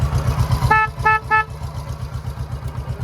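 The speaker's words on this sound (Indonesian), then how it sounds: "Klakson," Three short, bright honks from the horn of a 1969 Honda CB 350 motorcycle sound up close over its steadily idling engine.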